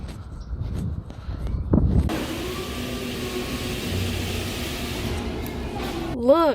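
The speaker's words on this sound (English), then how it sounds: "I'm now in the car." Riding inside a moving car gives a steady low engine and road drone with a wash of wind noise. Before it, rustling and handling sounds come close to the microphone, and a short rising whine is heard at the very end.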